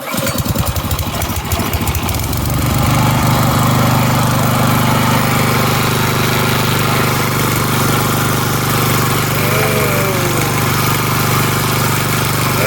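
Swapped engine on a rotary hoe revving up loudly and running steadily with the clutch engaged, a continuous close mechanical roar with a rattling start.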